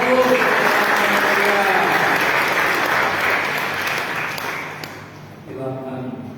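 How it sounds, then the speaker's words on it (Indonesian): Loud sustained applause from the congregation at a Christian church wedding blessing, steady for several seconds before fading, with a voice speaking over the tail end. "Berikan aplaus."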